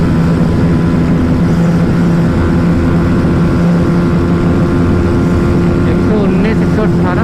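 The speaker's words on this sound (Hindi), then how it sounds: "देखो देखो NS में लिमिटर आ गया" A Bajaj Pulsar NS160 motorcycle runs at high revs against its rev limiter, a loud, sustained, buzzing engine drone close by with a steady pitch, heard under faint wind noise.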